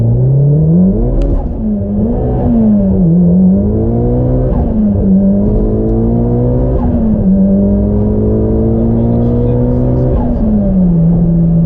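A fully built Mitsubishi Evo X with a GTX3076R turbo runs on a dyno, its engine droning loud and close, the pitch repeatedly climbing then dropping as it pulls through gears.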